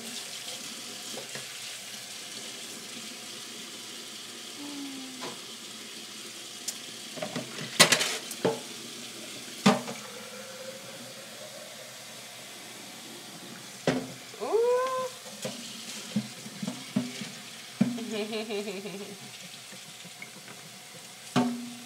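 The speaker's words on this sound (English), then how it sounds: "I knew these dishes had to get done sometime. Now is the time, apparently." Tap water runs steadily into a sink while dishes are washed, with scattered clinks, knocks and splashes rising over the constant flow, close by and with no talking.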